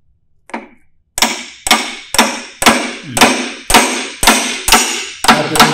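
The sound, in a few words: hammer tapping brass rod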